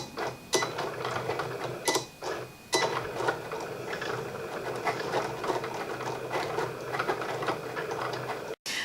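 A Cricut cutting machine with a deep cut blade cuts foil vinyl, giving a quiet, continuous mechanical whir broken by soft ticks and sharper clicks as the carriage moves, with no one talking.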